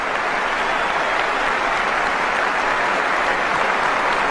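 A big Wimbledon tennis crowd claps steadily for Marion Bartoli reaching the 2007 final, producing a thick, unbroken wash of loud applause that holds at an even level from start to finish.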